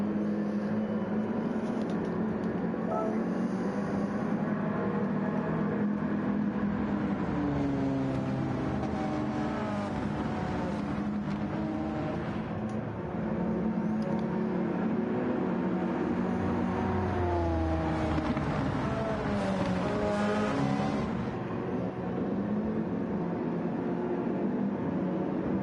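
Race cars restart at Le Mans in a sim racing endurance event, several engines droning and revving together with rising, shifting pitch in a dense, continuous roar, one dip in intensity midway before the pack pulls away.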